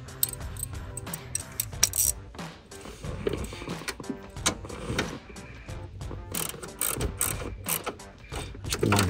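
Socket wrench ratcheting out 7mm bracket bolts on a 1994-1998 Mustang GT, with rapid clicking pawl bursts, metallic clinks and small part handling sounds repeating close up throughout, no talking.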